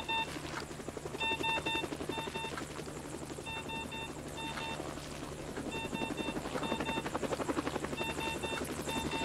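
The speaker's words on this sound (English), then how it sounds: "Helicopter's coming." Ambulance helicopter coming in to land on a motorway, its steady rotor thrum continuous and loud throughout, with a beeping tone repeating in short bursts over the top.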